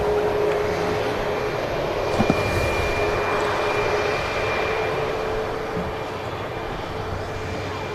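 A Corendon airliner at Manchester Airport sends a steady, distant engine roar, a constant wash of noise that eases slightly toward the end.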